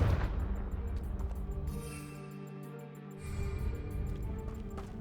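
Confringo fire-blast spell in the Hogwarts Legacy video game, a dense roar of booming, crackling blasts over steady music and battle noise, briefly thinning to a hollow lull before the heavy low rumble surges back.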